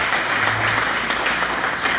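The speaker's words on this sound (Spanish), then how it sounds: "Démosle un fuerte aplauso, hermanos." A church congregation applauding during a Bible study gathering: steady, dense clapping from many hands, fairly distant and even throughout, with no voices over it.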